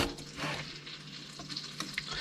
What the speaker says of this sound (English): I can hear the butter sizzling in the pans over there.